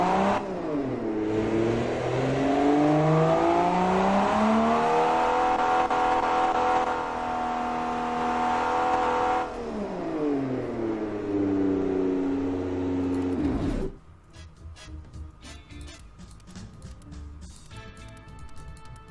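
A simulated car engine in the Automation game revs hard with a 5,000 rpm limit, rising and holding a loud, steady rev for about nine seconds, falling back, rising again and then cutting off.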